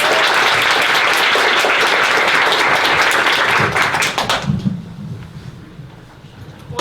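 Dense audience applause at a book event greeting author Rachel Lynn Solomon, loud and sustained for several seconds before thinning out as the clapping dies down.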